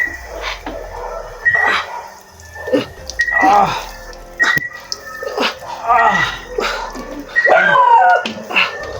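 A small dog yelps and whimpers in short, high bursts, close by, with a person's voice and some rustling mixed in.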